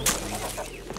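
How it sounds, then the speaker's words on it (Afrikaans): A cartoon bird squawking in a short burst, a loud harsh squawk at the start followed by softer clucking chatter, all within about a second. "Hey, nie soveel geraas maak nie meneer voël."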